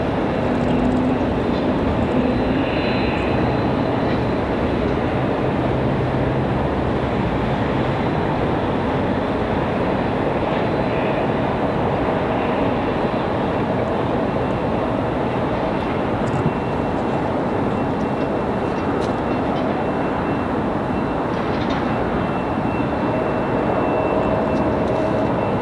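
American Airlines A319 airliner at Raleigh-Durham airport, a steady broadband jet roar that holds loud and constant throughout, as if passing close by on the runway or taxiway.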